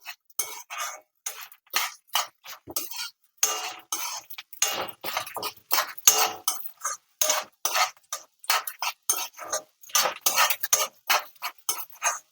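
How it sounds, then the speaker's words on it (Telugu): Flax seeds and spices dry-roasting in a pan while being stirred, giving a rapid, irregular run of close scraping and clinking strokes, with no voices. "ఇట్లా వీటన్నింటిని దోరగా వేయించుకోవాలి మాడనివ్వకండి"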